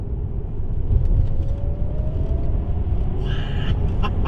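A Tesla Model X P100D electric car accelerates on the road, giving a loud steady rumble of road and wind noise and a faint rising whine, with a brief higher hiss near the end.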